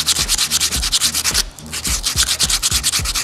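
Sandpaper rubbed back and forth over cured epoxy on acrylic, a close, loud, rhythmic rasping of quick strokes with a brief pause midway before the strokes resume.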